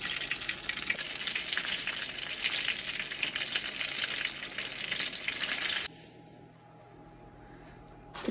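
Green tomatoes fry in a pan with a dense, bright sizzle and crackle held close for several seconds, then it cuts to a quiet room with a faint hum and a few small clicks.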